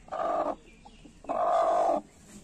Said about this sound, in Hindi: यानी कि मुर्गी कुड़क हो चुकी है।